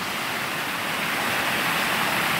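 Frio River water rushing steadily at a Texas campsite, a dense, continuous wash of flowing water close by with no voices over it.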